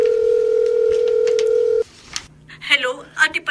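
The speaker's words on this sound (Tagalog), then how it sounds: "Sa cellphone ko nga siya tatawagan." A cellphone call is being dialed: a loud steady phone tone holds for nearly two seconds and then cuts off, followed by a voice speaking.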